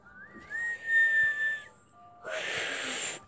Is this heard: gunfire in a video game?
no